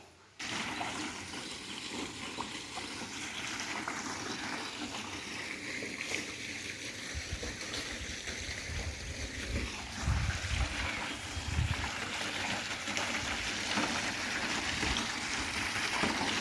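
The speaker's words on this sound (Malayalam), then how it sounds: "പുഴയിൽ നിന്ന് നമ്മൾ വളപ്പിൽ തിരിക്കാനായിട്ട് കൊണ്ടുവരുന്ന വെള്ളമാണിത്" River water channeled into a garden for irrigation rushes and gurgles steadily nearby, a continuous loud flow with a few heavier splashing surges toward the middle.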